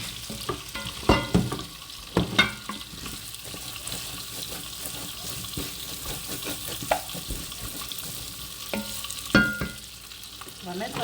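A spoon scrapes and stirs rice and vegetables frying in a pan, irregular knocks and scrapes over a steady sizzle, close by, with a few louder clatters and no speech.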